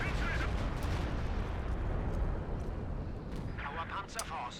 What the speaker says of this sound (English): Here comes the Stuka.